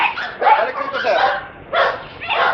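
A dog at a pet protection K9 get-together, giving a few short yips and whimpering barks in bursts, close and fairly loud, with people talking around it.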